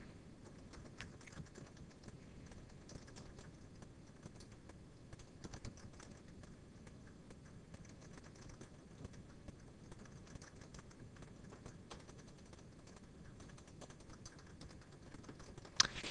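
Quiet, continuous clicking of keys on a computer keyboard as text is entered, a soft irregular patter with a sharper tap near the end, set against faint background hiss.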